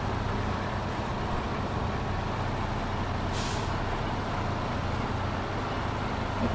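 A truck in SnowRunner drones with a steady, loud engine as it climbs a hard slope carrying a light load, and a brief hiss of air brakes cuts through midway.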